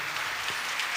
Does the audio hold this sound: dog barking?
no